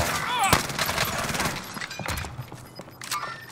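Automatic MP5 submachine gun fire in Call of Duty Warzone on Rebirth Island, with bursts of shots and a sharp crack early on, clustered with other in-game effects and some shattering clatter.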